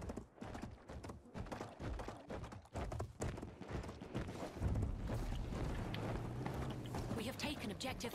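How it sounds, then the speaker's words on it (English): Hooves of a horse clatter in a steady galloping rhythm inside the Battlefield 1 video game, mixed with loud battle noise and game effects throughout. "I got a horse."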